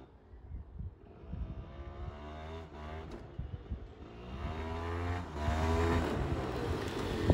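Honda NH80 scooter engine revs hard during a wheelie attempt, its buzzing pitch rising and falling in repeated surges before climbing to a sustained high whine, fairly close.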